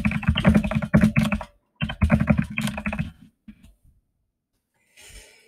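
Fingers type on a computer keyboard in quick, clattering bursts of keystrokes, with a pause in the middle and a few scattered taps trailing off near the end, heard close and alone.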